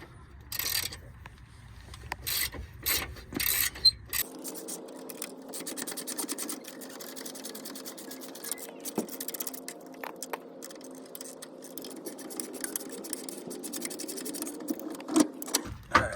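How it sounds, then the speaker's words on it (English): A wrench works loose the bottom bolt of a rear air shock, with quick rattling clicks at first, then steady scraping and mechanical noise with occasional sharp knocks, close by. "I'm gonna take this bottom bolt out here"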